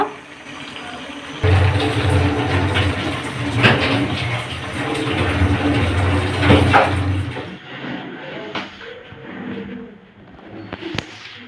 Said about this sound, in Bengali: এখন জলগুলো চুলা থেকে নামিয়ে জলগুলো ঝরিয়ে নেব।